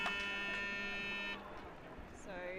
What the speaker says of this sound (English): that buzzer was actually for the other pool